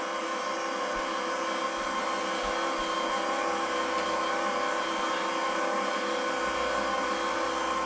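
An electric mixer whirs steadily through ube purple yam cupcake batter, a constant mid-pitched motor hum with a faint grinding edge that holds even and unbroken throughout.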